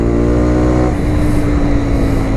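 A Honda 125 motorcycle engine sounds loudly through its exhaust at close range, a steady buzzing drone with a pitch shift partway through, alone with no voices.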